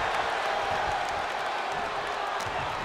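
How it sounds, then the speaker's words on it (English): Arena crowd in WWE 2K24 during an Elimination Chamber championship match, a dense, steady roar of cheering and applause, loud and sustained across the short moment with a faint voice blended in. "A deafening cheer from the WWE Universe is reverberating around us"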